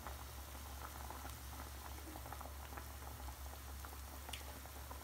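Chenna pieces simmer in sugar syrup for chenna muduki, a steady soft bubbling and popping with faint patter throughout, heard close and alone over a low stove hum.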